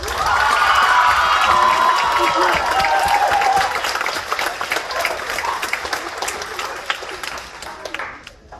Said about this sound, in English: Can we get a round of applause for Warwick?